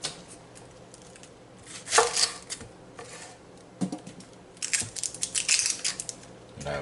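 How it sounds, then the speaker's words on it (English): A knife minces an onion for shrimp curry: irregular crisp chopping taps, a few isolated then a quick rapid run of cuts near the end, close and fairly quiet. "I'll mince this onion as small as I can also"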